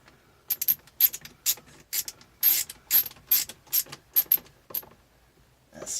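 A ratchet turns out the bottom screw of the turn signal switch on a third-generation Toyota 4Runner, giving about a dozen short, crisp clicking bursts in an uneven rhythm, close and clear with no talk.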